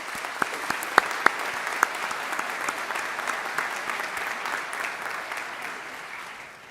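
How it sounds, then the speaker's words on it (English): A graduation ceremony audience at St Mary's University College applauds, a dense, sustained wash of clapping from a large crowd with a few sharper claps standing out early, slowly fading toward the end. "why don't we give them a well-deserved round of applause?"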